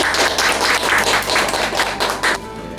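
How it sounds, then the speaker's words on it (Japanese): Audience applause at a Japanese eating competition: a crowd claps in quick, uneven bursts, loud and close, then tapers into a quieter room tone over the final moments. "皆さんに拍手をお願いします。"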